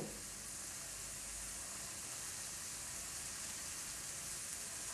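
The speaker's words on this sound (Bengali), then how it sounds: "এখানে আমি ফুলকপিটা দিয়ে দিচ্ছি আগে" Cauliflower florets hit a hot pan and sizzle in a steady, bright hiss, continuous and fairly quiet, with no talking.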